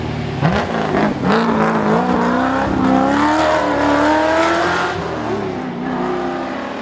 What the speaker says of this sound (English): coming into those corners, those downshifts, those gear changes sound excellent